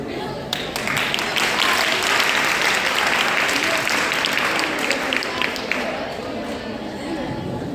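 Loud, sustained applause from an audience at a Hindi-language stage event, welcoming the guests, with dense clapping filling the whole stretch and some crowd chatter mixed in.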